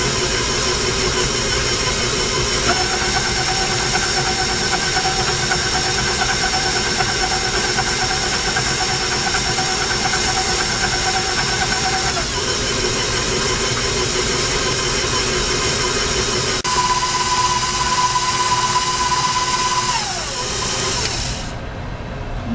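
An electric mixer steadily beats eggs, added one at a time, into oatmeal cookie dough. Its motor gives a continuous whirring hum with a hissing edge, shifting pitch as the speed changes, then winding down at the end.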